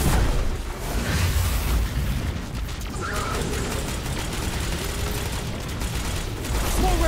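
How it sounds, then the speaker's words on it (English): Missile blasts crash through a Destiny 2 firefight, a dense barrage of booming bursts and rumbling impacts layered over constant battle noise, loud and close throughout with no pause. "Missiles! Stay inside my shield!"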